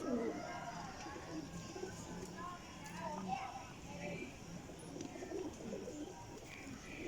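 A prized racing pigeon coos softly in short repeated phrases, close but quiet, while someone speaks over it almost throughout.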